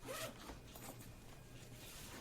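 A zipper on a Gitzo Legende backpack's laptop compartment rasps open nearby, a quick louder pull at the start followed by a steady, quieter dragging zip.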